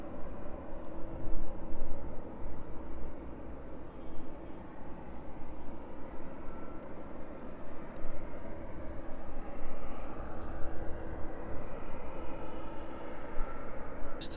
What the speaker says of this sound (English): the 757 on final approach then making its way over East Leak